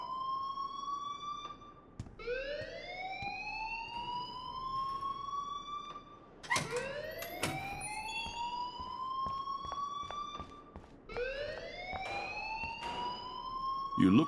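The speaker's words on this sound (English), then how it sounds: "please turn off that alarm since that's your job" Fire alarm ringing in the game Life Is Strange, a loud electronic siren that rises in long sweeping wails, repeating several times with sharp clicks and bangs between the sweeps.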